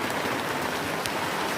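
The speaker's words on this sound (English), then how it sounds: "it's raining like crazy this side." Heavy rain pours down steadily on a homestead by Lake Bunyonyi, a dense, even hiss of drops close by that never lets up, with no voices over it.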